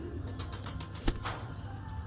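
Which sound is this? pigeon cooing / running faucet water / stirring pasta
pigeon cooing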